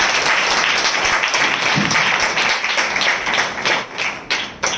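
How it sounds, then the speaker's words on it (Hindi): A congregation at a spiritual assembly applauds loudly, with sustained, dense clapping that fills the space and eases slightly toward the end. "हम जोरदार तालियों से उनका स्वागत करें"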